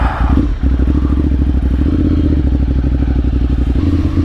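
A Ducati Monster 795 motorcycle is ridden on a road near Kaliurang, Jogja, its engine giving a steady, close, throbbing drone that holds for several seconds with no talk over it.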